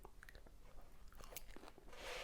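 Crunchy biting and chewing of strawberry-filled Polish pierogi from the supermarket, eaten close up in a series of short wet crunches with a louder crackling burst near the end.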